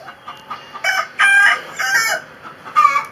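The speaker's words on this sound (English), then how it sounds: "No, that's a little rooster." A small young rooster crows in a backyard flock several times in uneven bursts, shrill and close, standing clear over quiet background.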